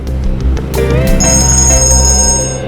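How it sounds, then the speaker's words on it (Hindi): A phone rings with a bright, sustained electronic tone over a loud, busy background of music or room noise. "एक मिनट, फोन आ रहा है।"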